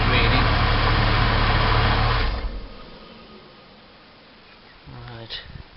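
The air-conditioning compressor of a 2001 Porsche Boxster 986 runs with a loud, steady droning whir for about two seconds, then drops away to a low hum, followed by a brief clatter near the end.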